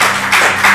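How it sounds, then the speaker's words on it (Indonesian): Brief burst of clapping from a small group during an informal chat with an Indonesian army colonel, a short loud patter of hands lasting under a second, close and without talk. "Tepuk tangan dulu."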